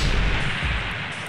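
Gunfire in the video game Sea Remaster 2 hits as one heavy, booming blast at the start, then fades into a rumbling tail.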